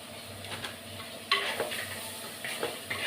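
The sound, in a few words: ingredients sautéing in a pan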